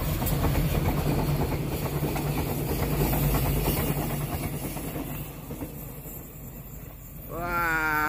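A Prameks passenger train rolls through a sharp curve at Kalimenur, Kulon Progo, Yogyakarta, its steady loud rumble and wheel noise filling the scene, with high wheel squeal rising near the end.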